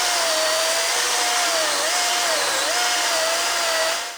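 A DeWalt DCM575N 54/60V cordless chainsaw with a 400 mm guide bar cuts through a 210 mm log, giving a loud, steady motor whine that dips slightly in pitch under load for about four seconds, with no talk.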